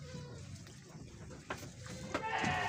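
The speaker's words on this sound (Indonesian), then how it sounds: "Nah, ini dia kambing-kambingnya Mas Nardi" Senduro and Jawa Randu goats in a breeding pen, including pregnant does, give a few short bleats over a continuous low background, with one louder cry toward the end.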